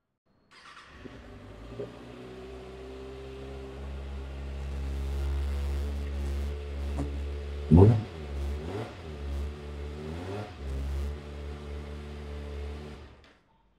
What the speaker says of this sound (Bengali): So this is the sound of this beautiful bike.